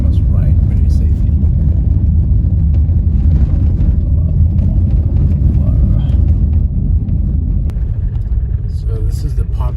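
Minibus taxi passing on a rural South African road, a steady loud low engine rumble and road noise throughout, with faint speech in the background.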